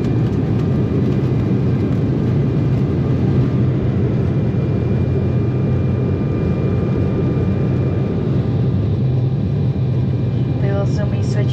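Steady broadband roar of a KLM airliner cabin in flight before landing, continuous engine and airflow noise held at a constant level throughout, with faint scattered clicks near the end.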